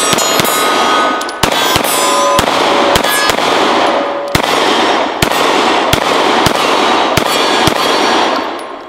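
A Glock Gen5 pistol fires through a magazine in a string of sharp, loud reports at an irregular pace, about a dozen shots, each ringing with metallic reverberation over continuous noise.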